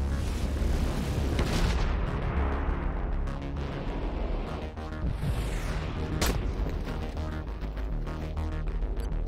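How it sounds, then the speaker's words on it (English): Orbital bombardment pounds a target in the strategy video game Pandora: First Contact, a continuous, loud rumble of overlapping booms with a few sharper cracks standing out. "Let's drop some orbital bombardment right on their capital, smack that away"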